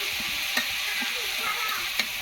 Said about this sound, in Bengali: এই লাউ শাক ভাজা হয়ে গেছে